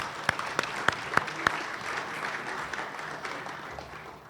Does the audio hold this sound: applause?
yes